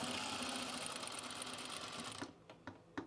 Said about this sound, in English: All right, so I'm gonna do again, a 1 1/4 inch seam.